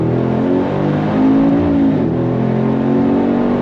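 The engine of a 2025 Cadillac Escalade-V lets out a deep, loud, rumbling drone that swells in a brief rev and then settles back. The sound is steady and close, as if heard from inside the moving vehicle, with no talking.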